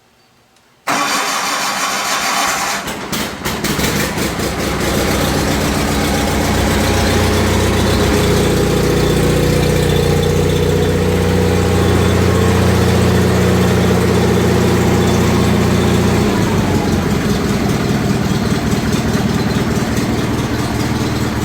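A John Deere 318 garden tractor engine cranks briefly, catches and settles into a steady, loud idle that runs close by, with no talk over it.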